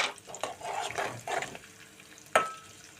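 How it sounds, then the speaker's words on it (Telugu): Mustard seeds and cumin hitting hot oil for a gongura dried prawn curry, a fizzy crackling sizzle with stirring that eases off, then one sharp pop near the end, no voices. "దీంట్లోనే నేను ఆవాలు జీలకర్ర వేస్తున్నాను."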